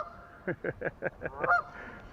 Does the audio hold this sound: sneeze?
no